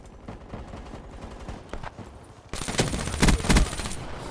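Gunfire in Call of Duty: Black Ops III, steady rattling shots that grow louder and denser halfway through, with heavy close bursts standing out among the rapid fire.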